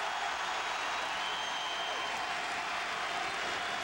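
A basketball arena crowd roars in a steady, dense wash of cheering that holds loud and constant without a break.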